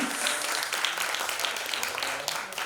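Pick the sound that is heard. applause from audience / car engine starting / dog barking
applause from audience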